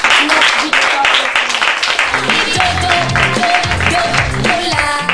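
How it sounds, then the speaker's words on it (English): An audience at a school show claps in sustained, dense applause while a speaker talks over it and music starts underneath. "Another round of applause for him."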